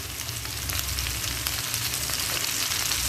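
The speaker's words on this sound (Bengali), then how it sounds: "পেঁয়াজ ভাজা ভাজা হয়ে আসলে একটু কাঁচামরিচ দিয়ে দিন।" Onions fry in a pan for a poli fish curry with drumsticks, giving a continuous, close, crackling sizzle of hot oil with no talk over it.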